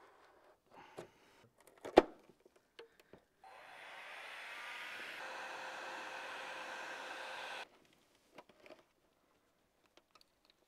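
A heat gun blows a steady, airy hiss for about four seconds while warming the locking clips of a Volvo V70 headlight lens, framed by scattered clicks and handling knocks before and after.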